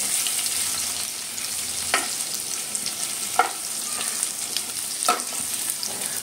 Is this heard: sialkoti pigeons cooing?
no